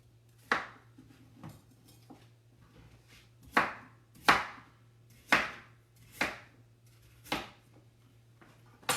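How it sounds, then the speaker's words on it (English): A knife coarsely chops unpeeled carrots on a cutting board for split pea soup, with about nine sharp separate thuds at an uneven, unhurried pace, close and clear with no talk. "I'm not peeling them. I'm just going to coarsely chop them."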